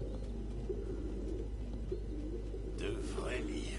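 Pigeons coo softly in a cluttered apartment in Detroit: Become Human, a low murmuring burble beneath steady room tone and faint voices.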